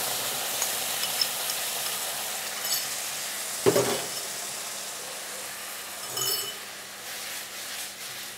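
Pineapple marinade poured into a hot pan of sizzling cumin and chilli tempering for Bengali pineapple chutney: a steady broad hiss, then a sharp burst of splattering sizzle midway and a second smaller flare later, with faint clinks and no talk.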